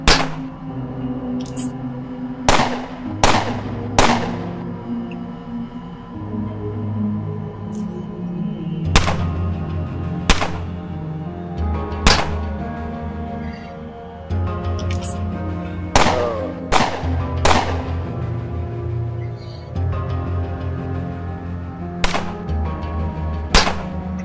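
In UnderRail, sharp gunshots aimed at a robot crack out one at a time at irregular intervals across a steady humming background, loud and close, with some clanging impacts.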